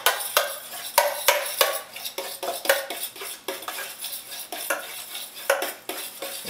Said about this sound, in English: So first thing you want to do is break an egg into it and beat that in.